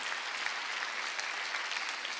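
A church congregation at a Wednesday worship service bursts into applause: dense, continuous clapping from many hands, loud and even for the whole stretch, with no speech.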